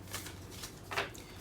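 A deck of tarot cards is shuffled close up, giving a few quick papery riffling bursts over a quiet room.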